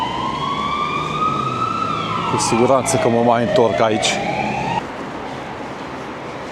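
Ambulance siren wailing on a Barcelona street at night, its pitch sweeping and then dropping as the vehicle passes close by, with someone talking over it and city traffic noise underneath.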